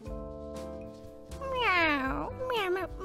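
A voice imitates a cat in an animated short, giving several drawn-out, rising and falling meows that grow louder toward the middle and end with a shorter meow.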